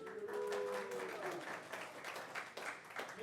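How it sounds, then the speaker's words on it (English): Attendees at a county board of commissioners meeting giving a brief round of clapping in a room, faint and mixed with murmuring voices. "I'll give him a hand clap."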